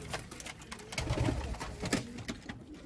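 Pigeons in a loft coo softly at close range in low, rolling calls over a faint background of rustling and shuffling, with no talking.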